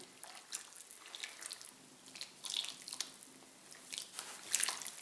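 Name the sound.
mixing water into chestnut wood ash for homemade detergent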